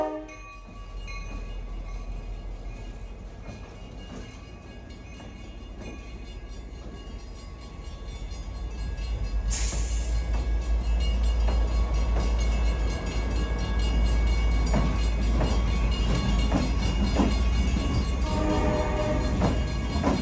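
An MBTA commuter rail locomotive running on the Grand Junction track in Boston, a deep steady engine rumble building as it nears, with a brief sharp horn blast midway and faint wheel noise, no talk.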